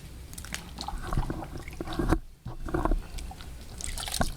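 Wet squishing and dripping as a carburetor part is worked and soaked in Purple Power degreaser, with soft liquid sloshes and small splashes close by, no talk.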